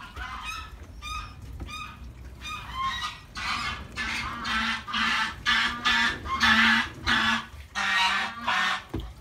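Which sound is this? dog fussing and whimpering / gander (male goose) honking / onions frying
gander (male goose) honking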